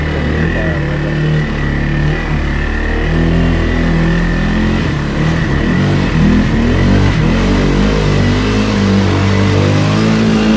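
A 2020 CFMoto Cforce 600 ATV engine revs hard and close through a mud hole, a loud, continuous mid-pitched drone that climbs and falls with the throttle while mud churns beneath it.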